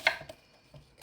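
A knife chops a half onion on a cutting board while kimchi seasoning is being prepared, giving one sharp, close tap followed by a few fainter cuts.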